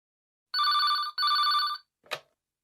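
Old-style telephone bell rings twice in quick electronic trills, close and clear, followed by a short click as the receiver is picked up, with silence around it.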